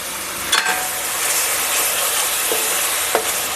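Ground tomato paste poured into a pan of sizzling masala for a baby potato aloo dum hisses loudly and steadily at close range, with a few soft scrapes and stirring knocks and no talking.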